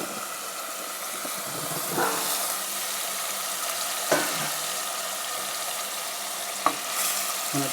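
Potatoes tossed into a pan of cooking meat give a steady, close sizzle and fry throughout, with a few scraping stirs of the spatula.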